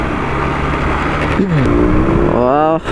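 Yamaha RX 100 motorcycle engine running on a city street, a steady two-stroke drone under loud passing traffic, with rising and falling engine whines and a voice speaking over it.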